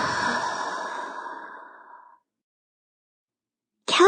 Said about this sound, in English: I like to take long, deep breaths